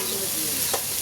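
Ivy gourd, potato and vegetable stems sauté with turmeric and salt in a pan for a light curry: a steady close sizzle with a brief scrape of stirring.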